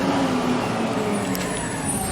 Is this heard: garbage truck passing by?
yes